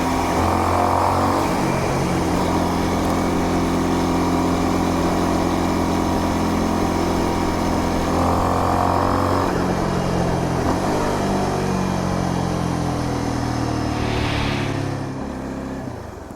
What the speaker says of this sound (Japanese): エンジンを少し回しても 排気音が連続的にならないのがいいなと思います。